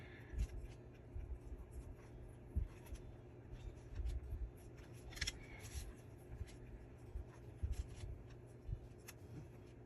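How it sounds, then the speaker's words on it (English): A sharp craft blade cuts around a paper daisy, producing soft scratchy scraping and small ticks close by, quiet and irregular with brief louder strokes. "So we're cutting all the way around this daisy here."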